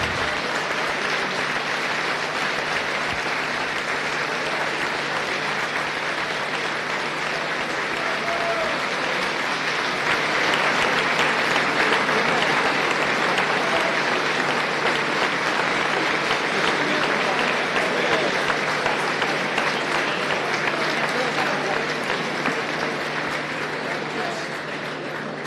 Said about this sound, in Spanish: Un fuerte aplauso para Margarita Stolbizer, Miguel Lipchitz, Ricardo Alfonsín, Alejandro Katz y Beatriz Arlo.